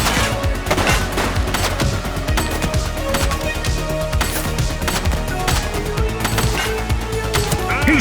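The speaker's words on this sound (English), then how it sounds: "Shots fired! One less bad guy." Rapid bursts of gunfire from a police video game fill the scene continuously, loud and close, with sharp repeated shots overlapping in dense volleys and faint voices mixed underneath.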